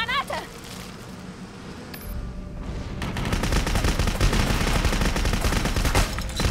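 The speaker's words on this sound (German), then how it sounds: "Ich bin unter Beschuss, Sir!" Rapid gunfire in the video game Clive Barker's Jericho, dense continuous bursts that build louder after a few seconds, with shouting voices mixed in.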